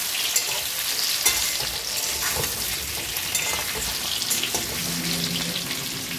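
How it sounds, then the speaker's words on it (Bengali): A spice mix frying in a little oil for a pumpkin chokka, a continuous bright sizzle with scattered pops and stirring scrapes, close and fairly loud, no voices. "আমি অল্প করে ভেজে নিলাম,"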